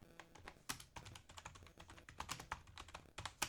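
Rapid keystrokes on a computer keyboard while typing a prompt into ChatGPT, an uneven run of close, crisp clicks and taps with short pauses, no voices.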